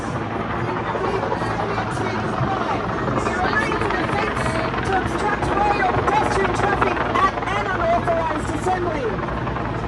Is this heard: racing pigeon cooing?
no